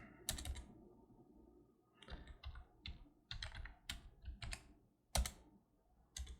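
Typing on a computer keyboard, close and clear, with irregular bursts of sharp key clicks separated by short pauses.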